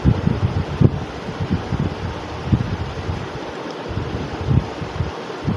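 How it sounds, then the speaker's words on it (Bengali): An electric fan runs in a home kitchen while beef is cooked in a pressure cooker, giving a steady, close broadband whoosh with soft low-end fluttering and no speech. "ফ্যানের আওয়াজ শোনা যাচ্ছে, কেউ কিছু মনে করবেন না।"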